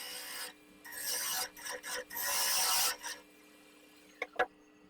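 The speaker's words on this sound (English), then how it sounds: "The final shaping and fairing of the inside is done with a big scraper." A big scraper shaves the inside of a turning oak lidded box on a wood lathe, giving bursts of close rasping and hissing cuts with short gaps, followed by two quick knocks.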